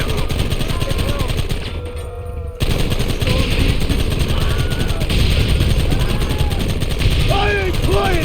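Loud, continuous volleys of rifle and pistol fire in Red Dead Redemption, near and relentless, with a brief lull before the shooting resumes; shouting voices cut through the barrage.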